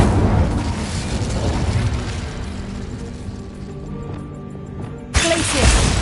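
An Incendio fire spell in the video game Hogwarts Legacy lets out a loud, rumbling burst of flame that crackles and roars steadily, then ends in a sharp, bright flare at the end.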